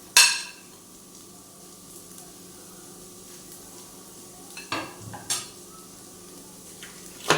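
Onion and green chilli frying in butter for egg fried rice, a faint steady sizzle in a pan with a few sharp utensil clinks and stirring scrapes near the start and the middle.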